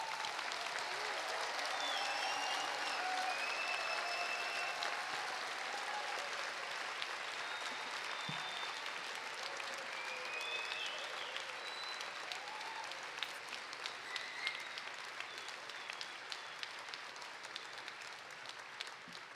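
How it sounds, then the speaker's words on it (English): Applause from a convocation audience for engineering, computer science and fine arts graduates: sustained hall-wide clapping that thins into scattered claps, with faint crowd murmur and some voices beneath. "give yourselves a nice hand of applause for a great job"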